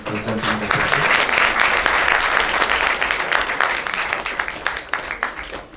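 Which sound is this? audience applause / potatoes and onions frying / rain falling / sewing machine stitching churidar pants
audience applause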